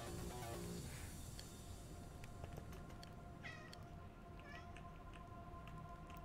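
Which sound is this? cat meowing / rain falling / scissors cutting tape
cat meowing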